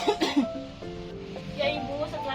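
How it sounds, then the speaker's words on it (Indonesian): A patient coughs several times during a breathing exercise in a hospital nursing setting, with short bursts close up, followed by quieter background sounds. "ibu bisa batukan."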